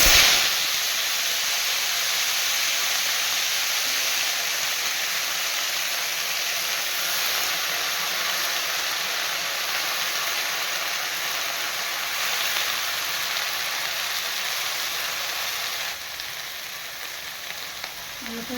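Pungka greens dropped into hot oil tempered with black cumin, sizzling and frying loudly and continuously, a bright crackling hiss that eases slightly toward the end, with no talking.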